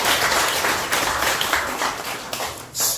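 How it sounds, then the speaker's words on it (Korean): Audience applause at a lecture gathering honoring a visiting professor, dense clapping from a room of people that swells and fades in waves, ending with a brief louder burst of closer claps. "여러분 박수 한번 부탁드립니다."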